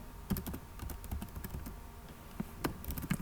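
Quick bursts of computer keyboard typing while entering SQLite insert commands, irregular clicks and keystrokes close up with no talking.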